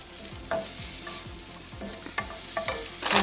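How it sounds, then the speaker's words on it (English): A spoon stirs smoked paprika, cumin and mushroom powder in a hot pan, making rhythmic scraping strokes over a constant sizzle, close and fairly loud. "the smoked paprika, and the cumin. And this is the mushroom powder. Stir that around."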